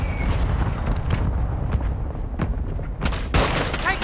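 Heavy gunfire in the Call of Duty: Modern Warfare II video game, dense rattling bursts and booming shots in a continuous loud barrage, with a sharper cluster of close shots near the end.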